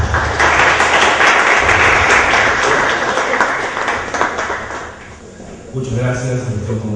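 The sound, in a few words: audience applause welcoming a speaker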